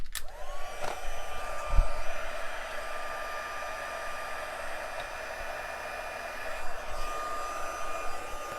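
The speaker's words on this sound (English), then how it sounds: "the powder doesn't need to go too far because we're going to heat emboss this" A heat gun runs steadily to heat emboss powder on a candy cane card, a loud continuous blowing whine close by that starts with a click and holds without pause.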